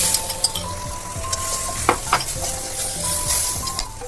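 Mee goreng with peanut butter sizzles and fries in a pan, with repeated scraping stirs of the spatula through the noodles, close and steady with no talking.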